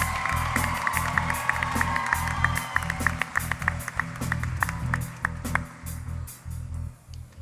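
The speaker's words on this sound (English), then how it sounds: "please give another round of applause to Myah Englebrecht" Audience clapping for a contestant at the Hoosier Star 2021 talent competition, a steady patter of many hands over a low rhythmic backing that thins out toward the end.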